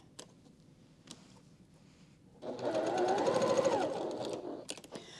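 A sewing machine runs a steady, fairly loud burst of stitching over quilt pieces for a couple of seconds, after a quieter stretch of faint room noise.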